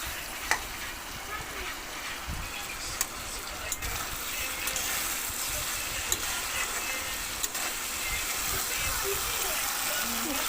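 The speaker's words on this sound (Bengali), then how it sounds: "নাড়াচাড়া করে এখন এর জল আর পনির একসাথে দিয়ে দেবো" Potatoes and tomato with paneer and added water cooking in a pan, stirred: continuous soft sizzling with scattered spoon clicks against the pan, close and moderate, while someone talks over it.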